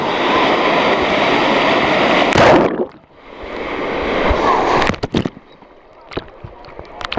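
Waves surging in a water park wave pool on a hot day, a loud continuous rushing wash that briefly drops away and returns, followed by scattered splashes and faint voices.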